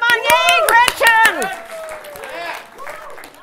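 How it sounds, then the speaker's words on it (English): An audience in a lecture hall bursts into applause mixed with cheering voices, loud at first and then tapering off over a few seconds. "Would you applaud and tell her what a great gal she is?"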